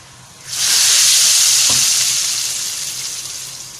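Browned fried onion tempering is poured into red lentil dal and bursts into a loud, sustained sizzle that fades slowly, with a faint clink partway through and no voices.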